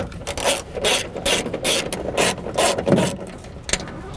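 Hand ratchet loosening bolts on a Honda door while the window regulator and motor are removed, a rapid series of sharp metallic clicking bursts in uneven groups, close and clear, with no talking.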